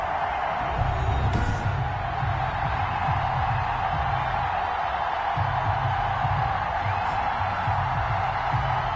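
A steady roar from a packed NFL stadium crowd before a New Orleans Saints versus New York Giants game, a dense continuous wash of voices that swells slightly and never drops away over nine seconds.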